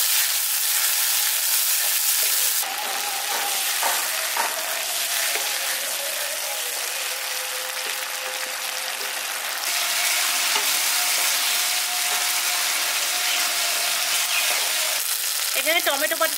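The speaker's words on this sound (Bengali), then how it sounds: "এবার টমেটো পেস্টটা দিয়ে এটাকেও ভাজা ভাজা করে নিচ্ছি।" Tomato paste with ginger-garlic paste fries loudly in a pan for rui sorshe, giving a dense, continuous sizzle close by. The level shifts in steps as the paste is stirred, and a faint hum sits underneath.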